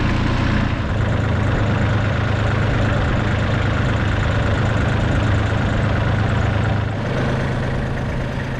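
Steady low engine rumble of a tractor idling nearby, a constant unbroken drone with a slight dip near the end and no talking.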